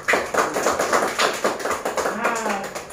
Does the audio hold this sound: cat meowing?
no